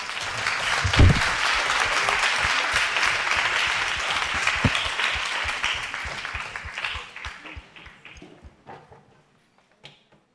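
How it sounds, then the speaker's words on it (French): An audience at an ethics debate applauds the speakers, a full burst of clapping that holds steady for several seconds, then thins to scattered claps and fades to near silence. "je vous propose de les applaudir."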